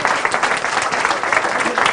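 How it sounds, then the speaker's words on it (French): Loud, dense applause from an audience honouring a volunteer production team, continuous clapping with a faint murmur of voices underneath. "je vous demande, pour voir si vous êtes chaud au niveau des applaudissements, d'applaudir déjà toute cette équipe"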